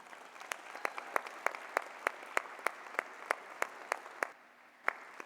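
Faint applause for Premier Heather Stephenson at a business hall of fame gala, a few distinct, evenly spaced claps standing out from a soft background of scattered clapping, pausing briefly before one last clap.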